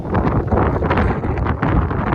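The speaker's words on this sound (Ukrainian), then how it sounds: "Вітер у нас такий сьогодні аж зливає" Strong wind buffets the microphone on a farm plot in a constant loud roar with rough gusts throughout, no voices.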